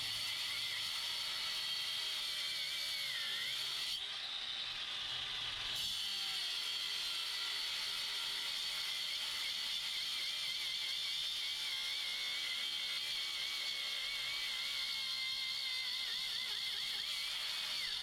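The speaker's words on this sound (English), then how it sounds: "So the grinder's starting to slow down" A battery angle grinder fitted with a diamond disc cuts steadily into a motorcycle lock, giving a sustained high grinding whine with a brief dip partway through, fairly faint and continuous.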